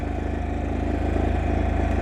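A Honda Dax 125 motorcycle engine runs close by with a steady, loud, pulsing single-cylinder throb and a slight rise in intensity partway through, with no voices.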